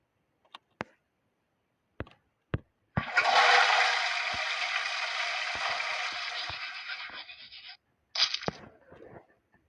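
Several sharp clicks and taps lead into a toilet flush: a loud rushing gush of water that tapers over about five seconds. Brief splashing and clatter follow afterward, with no talking.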